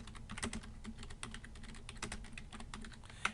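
Steady computer keyboard typing, a continuous patter of key clicks at close range with a few louder strokes, no voices.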